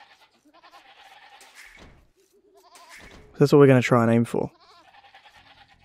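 Goats bleat in the Age of Empires 2 game, a few short game-sound calls mixed with other in-game effects while someone talks over them.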